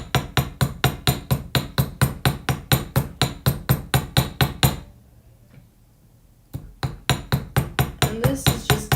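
A hammer taps a small metal jewelry piece in rapid, evenly spaced metallic strikes, loud and close, pausing for about two seconds before the blows resume, with no talking.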